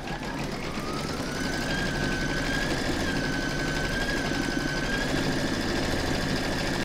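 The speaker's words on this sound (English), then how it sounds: "I'm now going to pop that into my machine and stitch round number two" An in-the-hoop embroidery machine stitching a fabric applique large hedgehog runs steadily throughout, a continuous close mechanical whirr with a rapid needle rhythm and no talking.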